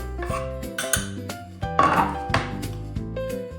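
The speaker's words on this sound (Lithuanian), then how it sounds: "Viską dedam į puodą." Ingredients for soy-marinated eggs clatter into a pot: a series of close, uneven clinks and thunks of metal and dishes.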